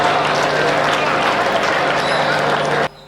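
Audience at a Hindi comedy poetry event bursts into loud, dense applause that holds steady for almost three seconds, then cuts off sharply.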